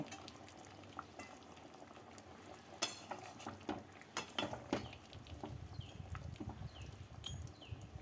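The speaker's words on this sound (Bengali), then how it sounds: "তিনটে চেরা কাঁচা লঙ্কা আর দুটো মিডিয়াম সাইজের টুকরো করা টমেটো দিয়ে মাছটাকে নাড়াচাড়া করে নেব" Mrigal fish with slit green chillies and chopped tomato is stirred in a pan of curry, giving soft scraping and gentle bubbling, with sharper spoon-against-pan knocks near the middle and a low steady simmer throughout.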